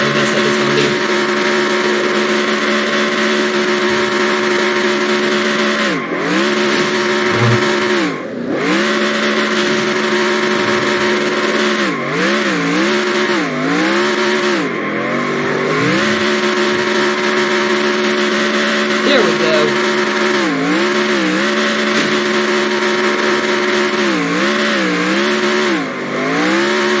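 In the NR2003 game, a race car at Nashville Fairgrounds does a burnout, its engine held at a loud, steady whine that dips and swoops repeatedly as the revs drop and climb. It plays alone, with no talking.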